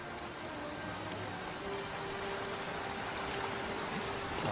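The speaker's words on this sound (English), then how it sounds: "Oh, behind the waterfall." A steady, dense rush of falling water from a waterfall in the Kashyyyk area of a Star Wars video game, an unbroken even wash with no talking.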